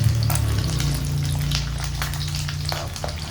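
Steady crackling sizzle of potatoes frying in hot oil under a cover, close and continuous, with faint clinks and stirring sounds, no voices.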